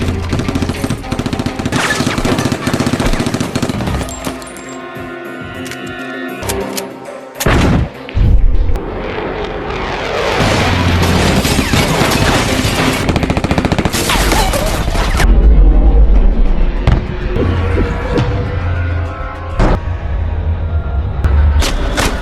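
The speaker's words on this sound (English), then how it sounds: "Explosions, ambushes, and brutal fights follow" Heavy gunfire and explosions rattle almost continuously, with bursts of rapid shots and deep booms, loud and close, with a brief lull partway through.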